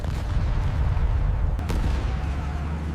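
Battle sound effect of artillery and machine gun fire at Omaha Beach: a dense, continuous low rumble of distant barrage with one sharper crack near the middle, loud and unbroken, with no speech.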